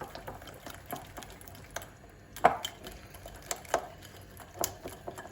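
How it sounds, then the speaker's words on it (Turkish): Soup ingredients are whisked in a bowl with light, irregular clinks and taps, one sharper knock standing out, all fairly quiet and close. "Şimdi şöyle çırpalım bakalım"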